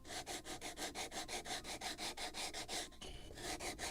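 A wooden plank for a model of the 1776 gunboat Philadelphia is bevelled and shaped along its edge with quick, even rubbing strokes, about five per second, soft and close, then breaking into a looser scrape.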